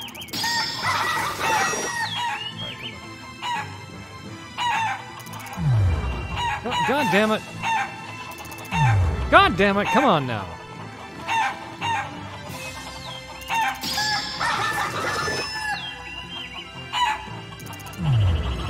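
Chickens in Shenmue III cluck and squawk repeatedly, with a rooster crowing several times over bright electronic music while a man mutters in frustration.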